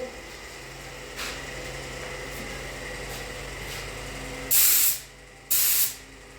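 A steady hiss runs throughout, broken by faint short puffs and then two loud, sharp bursts of a paint spray gun spraying lacquer, each lasting about half a second.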